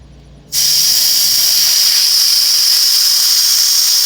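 Air hissing out of the tire valve on a Jeep Grand Cherokee, starting abruptly after a brief quiet moment and then holding as a loud, steady, close-up hiss to the end, with no talk.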